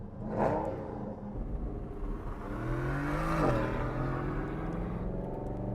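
An Aston Martin Vantage with an AMG V8 revs nearby, its engine note climbing in rising sweeps, surging to a peak midway and then holding a strong rumble, with no voices over it.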